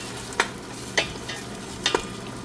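Onion frying in a hot pan for chicken biryani: a steady sizzling hiss with a few soft stirring clicks, close and moderately loud, with no talk.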